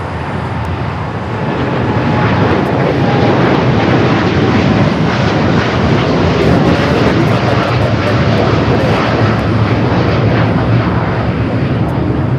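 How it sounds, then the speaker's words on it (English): ANA airliner taxiing at LAX, a steady loud jet engine roar that builds slightly and then holds for the whole stretch, with no voices on top. "ANA now starting its taxi."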